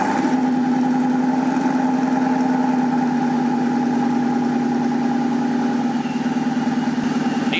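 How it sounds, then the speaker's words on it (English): Car engine idling with a newly fitted quad-tip exhaust after a 2013-2014 bumper swap, a steady even rumble with a low throbbing pulse held close and loud throughout, no talking. "start the car so we can see if there's a noticeable difference or not"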